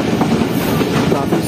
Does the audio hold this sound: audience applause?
no